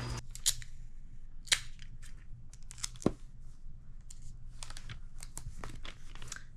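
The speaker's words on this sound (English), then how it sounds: "I am wrapping some gifts" Wrapping paper rustles and crinkles while gifts are wrapped late at night, with a few sharp snips and crisp cuts from scissors spaced apart over a low steady hum, close and fairly quiet.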